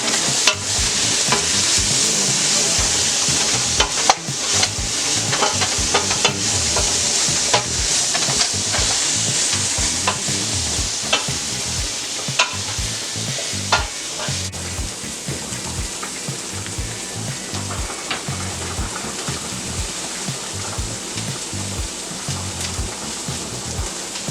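Pad thai sizzles and fries in a hot pan on a stovetop, with steady loud crackling hiss and frequent scraping stir strokes throughout, no talking.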